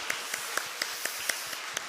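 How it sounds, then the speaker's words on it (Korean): A church congregation claps in steady unison rhythm, roughly four claps per second, soft and evenly spaced over a dense room wash. "우리 하나님 앞에 감사의 박수 올려드리도록 하겠습니다."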